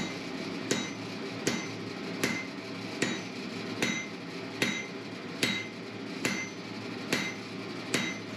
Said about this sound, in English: I move to the anvil to forge a set down, which isolates material for the head of the key.